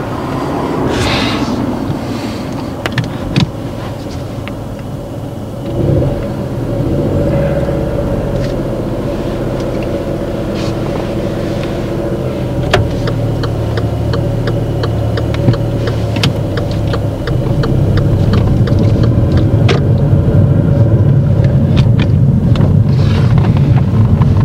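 A car on a driving lesson pulls away and drives on, its engine and road rumble steady and close inside the cabin, with wind noise and occasional clicks and knocks.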